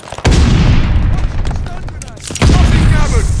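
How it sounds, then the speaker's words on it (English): Two heavy stun grenade blasts in Call of Duty Vanguard multiplayer, one early and one near the end, each a sudden loud boom with a rumbling tail amid gunfire and battlefield noise. "Stun grenade out."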